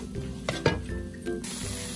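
Onions sizzle in melted butter in a pan, a steady low frying crackle with a couple of louder clinks and stirring scrapes of a utensil against the pan.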